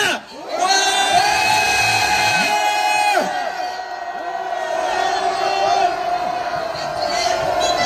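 A crowd of patriotic citizens at an outdoor rally against impeachment at the University of Seoul roars a sustained cheer of many voices, with whoops and shouts rising over a continuous wall of crowd noise.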